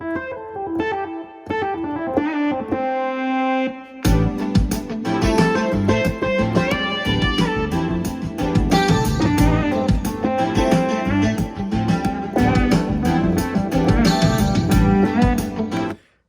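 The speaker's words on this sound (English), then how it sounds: "I had used to use this Moog lead all the time." A Moog lead synth patch from an Akai MPC expansion pack, a sustained buzzy melodic line that opens sparse and then swells into a dense, distorted full mix with driving beats, loud and unbroken.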